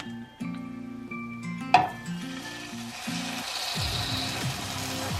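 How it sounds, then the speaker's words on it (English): A chuck roast browns in warm olive oil in a skillet, sizzling close by while the pan scrapes and knocks a few times and a low hum sits beneath it. "I have just a little bit of olive oil warm here in my skillet. I'm going to brown up my roast."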